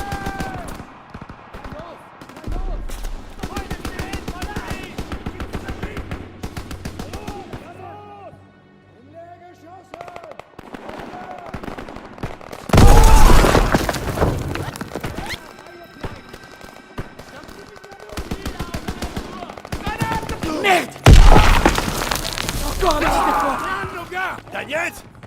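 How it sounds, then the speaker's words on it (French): Machine-gun bursts and loud explosive blasts in a WWII combat scene with US troops in Germany, rattling intermittently with two heavy surges, mixed under frequent spoken dialogue. "J'entends des coups de feu."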